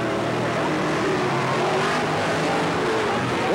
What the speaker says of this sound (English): Seems to have set up the car for the dry slick, and he's pulling away from Brother Dale and from Kevin Etchison.